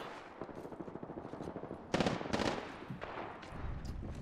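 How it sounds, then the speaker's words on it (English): Rapid automatic gunfire in the video game Apex Legends during a competitive squad match, a steady stream of close shots with a louder burst midway, firing continuously without spoken voices. "You're getting shot from the left side"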